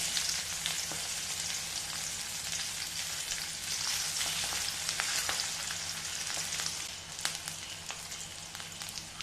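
Garlic and curry leaves are stir-fried in a pan as the start of a fish curry, making a soft, even, continuous sizzle with faint scattered crackles at moderate distance.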